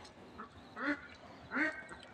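Ducks quack twice at a moderate distance, two distinct nasal calls about three quarters of a second apart over a quiet background, with no one talking.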